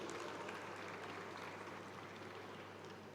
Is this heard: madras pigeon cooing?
no